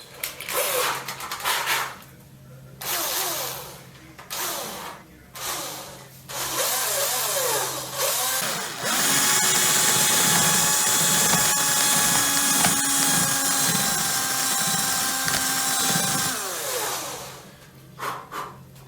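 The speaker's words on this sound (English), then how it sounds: "I'm gonna use a bigger drill bit" A power drill with a bigger bit whirs in several short bursts, then runs in one long, loud, steady stretch while boring a feeder-wire hole for an HO scale model railroad, winding down near the end.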